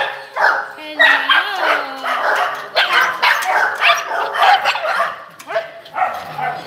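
Shelter dogs barking and yipping in a busy chorus, loud and close, with a few whimpers mixed in and a person speaking under the din.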